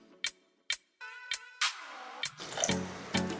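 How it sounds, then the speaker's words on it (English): Water is poured into a blender in a few short splashes, then flows more steadily, with clinks and drips, close and fairly quiet. "I may need to add some more water and cane juice just to cover the Callaloo"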